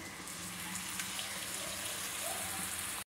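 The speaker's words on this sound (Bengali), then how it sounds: "এবারে আমি এর মধ্যে অ্যাড করছি কিছুটা জল" Water is poured into a pan of cooked-down fish curry masala for a Bengali bashpata sea fish curry, a steady continuous rushing hiss that runs unbroken for about three seconds before stopping abruptly.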